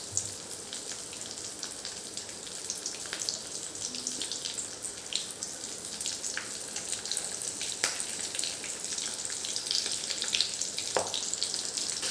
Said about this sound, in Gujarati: એની અંદર આપણે પહેલાં મરચાં થોડાક તળી લઈશું